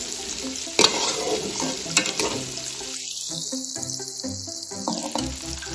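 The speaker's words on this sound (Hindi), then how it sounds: "अच्छी तरह से इसको तड़का लगा के फिर हम निकाल लेते हैं" Steady crackling sizzle of spices frying in hot oil for tempering pickle, loud and close, with occasional clinks and scrapes of stirring.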